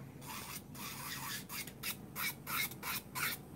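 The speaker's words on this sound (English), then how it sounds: "So I'm just taking away the scratches from my nails." A nail drill with a fine grit bit smooths scratches from nails in short repeated rasping passes, close and fairly quiet, with no talking.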